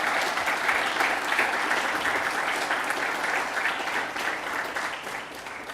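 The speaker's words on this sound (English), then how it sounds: "give them a round of applause for being with you for this entire time." Applause at a police officers' graduation ceremony as recruits turn to their families, a steady, fairly full clapping from a seated crowd that holds evenly and fades slightly toward the end.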